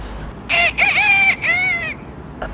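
A man imitates a large rooster's crow with his voice, giving one long, loud, wavering cock-a-doodle-doo in several connected segments, followed by a brief faint trailing note.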